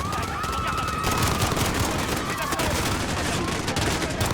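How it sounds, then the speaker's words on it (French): Rapid, dense automatic gunfire crackles continuously during an attack on London in Call of Duty: Modern Warfare, with shouting French voices mixed into the chaotic din. "Des coups de feu, plusieurs agents touchés."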